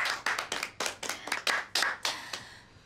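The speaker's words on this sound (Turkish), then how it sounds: "O zaman Firuze'ye bir alkış." A small family claps for Firuze at home around the table, a handful of hands tapping out about a dozen brisk, close claps in loose rhythm that fade out at the end.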